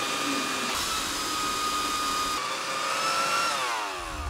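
A hair dryer roars steadily while air pushed through a supersized 3D-printed toy whistle produces a shifting, sliding tone above the blowing noise.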